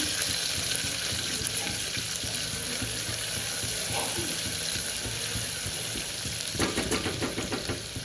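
Onions and chillies fry in a steel cooker, a steady close sizzle running throughout with a few stirring scrapes toward the end.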